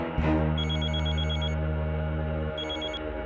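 A telephone bell ringing in an office or hospital setting, a sustained electronic trill in two bursts, the second starting just as the first cuts off.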